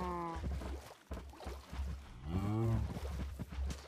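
Cows mooing in a survival video game, several drawn-out lowing calls at fairly close range, the longest near the end, over a steady low game background.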